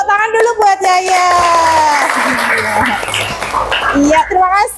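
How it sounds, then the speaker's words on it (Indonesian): Schoolchildren in a classroom clap for a classmate, a short burst of scattered applause mixed with an adult's and children's voices talking over it. "tepuk tangan dulu buat Yaya"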